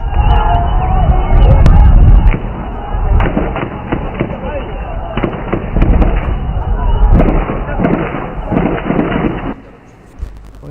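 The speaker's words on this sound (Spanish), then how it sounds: "Escuchamos disparos" Gunfire at a conflict scene: sharp cracks and bursts of shots, some rapid and some spaced, over crowd noise and shouting, loud and near with a rumbling, chaotic background.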